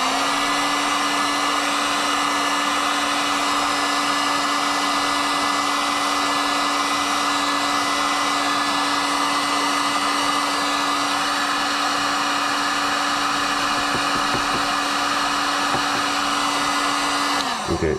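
A heat gun or hair dryer blowing steadily to heat a coating on a homemade non-metal mold, a loud continuous whine and rush held close for the whole stretch before cutting off.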